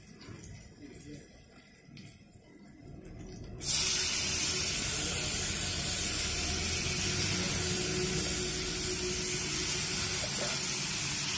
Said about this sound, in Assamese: এতিয়া আমি গাহৰিটো বহাই দিম